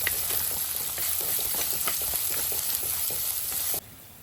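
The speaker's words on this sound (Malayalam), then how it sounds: "നല്ലപോലെ ഈ ചെറിയ ഉള്ളി നല്ലപോലെ വാടി വന്നോട്ടെ." Small chopped shallots sautéing in a pan give a steady close sizzle with scattered clicks of stirring, continuous for nearly four seconds before the noise drops away abruptly at the end.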